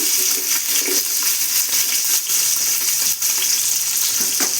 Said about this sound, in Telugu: ఇప్పుడు ఉల్లిపాయలు వేస్తున్నాను నేను